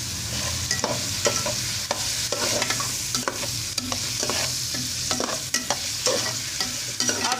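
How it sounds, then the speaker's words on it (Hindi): Turnips and ginger garlic paste frying in ghee, with a steady close sizzle and repeated stirring scrapes through the whole stretch, and no one talking. "अब शलजम और अदरक लहसुन का पेस्ट अच्छी तरह ये फ्राई हो जाता है"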